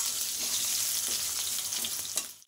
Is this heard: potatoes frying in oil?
yes